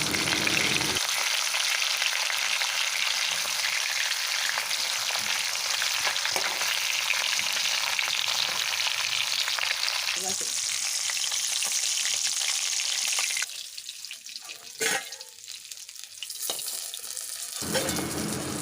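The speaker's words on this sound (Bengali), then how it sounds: "সেই পেটির মাছগুলো আমি তুলে নেব হালকা করে ভেজে" Hilsa fish belly pieces fry in mustard oil, a close, steady, hissing sizzle that drops to a quieter crackle near the end, with no talking.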